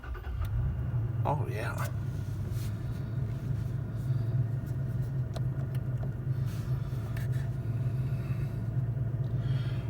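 A 2019 Toyota Tacoma TRD Sport V6 starts and settles into a steady low rumbling idle heard from inside the cab, with a brief remark spoken over the engine.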